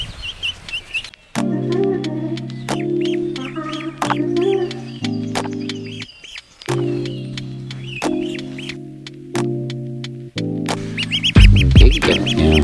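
A duck being taken into a homestead garden quacks repeatedly and loudly at close range. The nasal calls come in a rhythmic series with short gaps between them.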